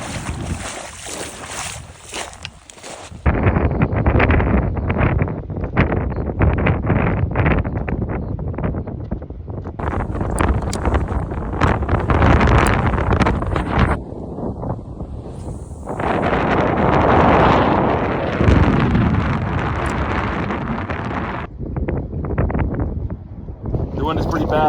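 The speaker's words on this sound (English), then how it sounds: "The wind is pretty bad, so I'm gonna move on and go find a hole that's protected from the wind." Strong gusting wind roars across the microphone on open ice while ice fishing, with loud buffeting that rises and falls and speech heard faintly beneath it.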